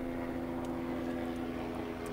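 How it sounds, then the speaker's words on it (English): Helicopter flying in the video game Cupid: A Visual Novel, a steady droning hum with a strong low rotor tone that holds evenly throughout, continuous and moderately quiet. "Hello there, Mr. Helicopter."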